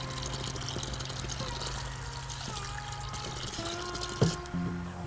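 Water drains steadily from the bottom release valve of a pipe at a summer house, warm from standing in the sun; the flow runs as a continuous close splash and trickle throughout.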